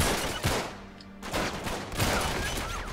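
Gunfire in the video game Uncharted 3: several sharp shots and bursts, loud and close, with short gaps between them.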